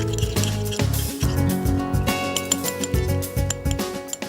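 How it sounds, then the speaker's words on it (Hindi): Spiced marinade with a little oil being mixed for tandoori stuffed potatoes, giving steady wet squishing and slopping sounds with a few soft clinks, close and continuous over a faint tonal background. "इस मैरिनेट को आप अच्छे से मिक्स कर लें।"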